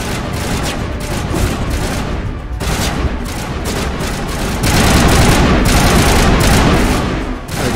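Loud, dense gunfire and grenade blasts from the Mass Effect video game, rapid overlapping shots with heavier booms building near the end, continuous throughout with no talking.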